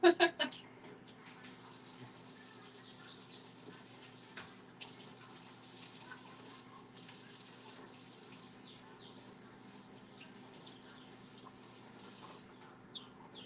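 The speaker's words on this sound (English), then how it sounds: "Let me wash my hands." Hands are washed under a steady stream of running tap water, a continuous quiet rush with a few small knocks near the start, in a setting where fertile eggs are being candled.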